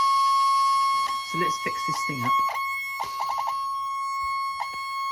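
A faulty rear servo on an Aero Commander model aircraft buzzes with a steady high whine and sharp chattering tones, overlaid by someone talking.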